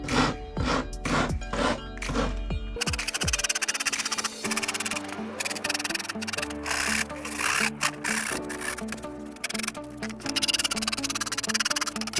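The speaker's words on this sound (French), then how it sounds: "Maintenant ce que je vais faire, c'est que je vais un peu poncer sur les côtés." Sandpaper rubs in a run of rhythmic back-and-forth strokes along the edges of plywood wall panels for a camper van, close and continuous with no talk.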